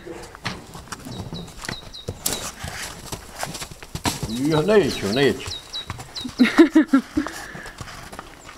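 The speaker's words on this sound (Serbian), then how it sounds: "Ovo je isto radni konj." A work horse moves with several clip-clop hoof strikes in an uneven rhythm, fairly close, while people talk nearby in short phrases.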